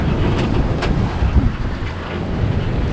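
A sailing catamaran pushes into 20-knot wind and waves, with wind buffeting the microphone and water sloshing and splashing against the hulls in a continuous, close roar.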